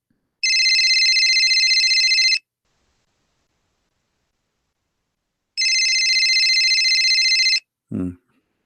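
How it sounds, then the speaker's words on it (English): A telephone rings in two long electronic bursts separated by a silent gap, loud and close, with a short thud right after the second ring. "He's not answering this phone."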